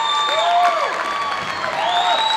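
High school basketball crowd at Advance applauds and cheers a player fouling out, steady clapping with whistles and whoops rising over it, close and lively throughout.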